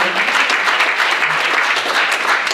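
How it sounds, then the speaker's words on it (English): A panel audience gives a round of applause for Buzz Burrell of Ultimate Direction, loud, close and dense clapping from many hands, sustained without a break and with no speech over it. "Let's give him a round of applause"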